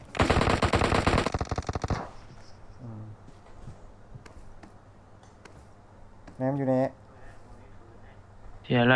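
A loud, rapid burst of machine-gun fire rattles for about two seconds. Quieter gaps, a few soft taps and short bursts of voices follow.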